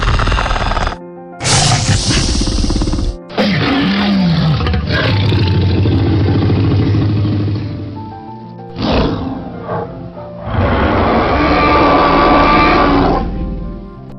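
Animatronic dinosaurs at a dinosaur park near a sea shell museum in Mahabalipuram let out loud, deep roars in several bursts, with short pauses and sweeping growls between them, close and dominant.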